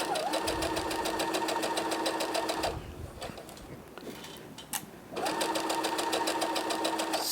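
Sewing machine stitching around a drawn box for a welt pocket, running in steady rapid bursts, a pause in the middle, then resuming the close, even whir.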